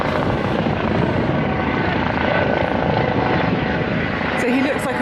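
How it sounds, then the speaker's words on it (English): A small tourist helicopter flies past over a beach, its broad rotor and engine roar holding steady and fairly loud across the whole stretch, with a faint higher whine near the end. "So he looks like a tourist helicopter."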